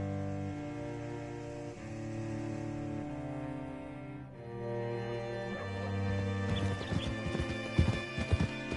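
Horse hooves clip-clopping in the video game Red Dead Redemption 2, a steady walking rhythm under sustained music that becomes a quicker, denser run of hoof hits near the end.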